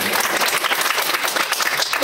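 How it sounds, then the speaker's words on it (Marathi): A group of children clap together before a story begins, a dense, steady patter of hands filling the whole stretch at close range. "आधी सगळे टाळ्या वाजवा बरं"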